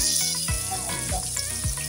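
Grated carrots frying in hot oil with whole chillies, a steady loud sizzle throughout with a few stirring scrapes of the spoon against the pan.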